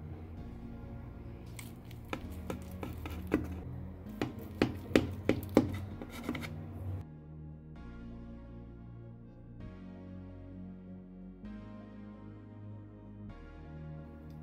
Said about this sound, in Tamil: நம்ம பேனில் பண்ண கேக்கு கட் பண்ணிக்கலாம்